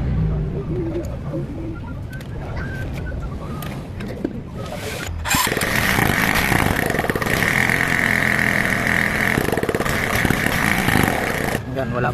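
A motorcycle engine is test-started after a tune-up, catching midway and settling into a loud, close, steady running drone after quieter fiddling sounds, with someone talking over the first part.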